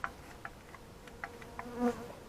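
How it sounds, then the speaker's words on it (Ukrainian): Honey bees buzz at a hive in a thin, faint drone with scattered tiny clicks and ticks, and a slightly louder buzzing pass near the end. "Але подивіться, яка жменька бджіл."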